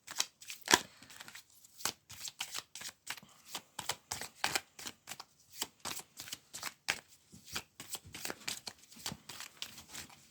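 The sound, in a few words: tarot cards being shuffled and falling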